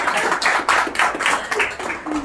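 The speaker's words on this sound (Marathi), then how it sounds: "जोरदार टाळ्या वाजवा." An audience at an awards ceremony claps in a dense burst of applause, nearby and steady for a couple of seconds, with voices faintly underneath.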